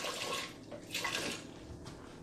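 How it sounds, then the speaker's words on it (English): Clean water pours into a pitcher from a tap in a home kitchen, a soft continuous splashing stream that shifts slightly in tone as it fills, faint and alone. "I take my water pitcher and I fill it up with some clean water"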